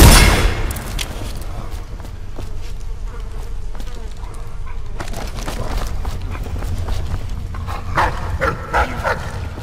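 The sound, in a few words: dogs barking and growling in the video game Dishonored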